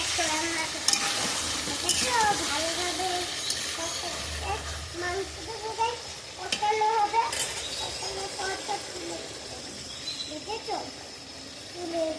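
Goat meat curry sizzles and is stirred in a pan with a steady frying hiss and occasional utensil scrapes, while someone talks over it.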